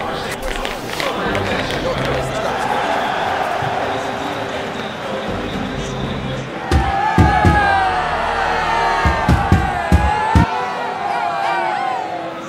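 Stadium crowd noise at the Roma vs Lazio derby in the FC 24 video game, a steady dense roar that swells midway with sharp drum-like thumps and louder cheering and whistles.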